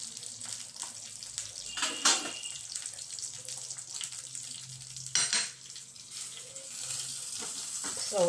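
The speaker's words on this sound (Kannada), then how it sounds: "ಒಂದು ಒಗ್ಗರಣೆ ಹಾಕಿಬಿಡೋಣ" Tempering for idli sambar sizzles hot in a pan, a steady frying hiss with two louder crackling bursts partway through, heard up close with no talk.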